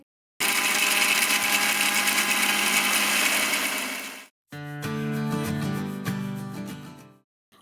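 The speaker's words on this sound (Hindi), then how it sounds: "अब इन तीनों चीज़ों को अच्छे तरीके से ब्लेंड करके पाउडर बना लेंगे" An electric blender grinds whole cumin, black pepper and fennel seeds into powder, running loud and steady for about four seconds, cutting out briefly, then whirring again in a second shorter pulse with a lower, changing motor tone.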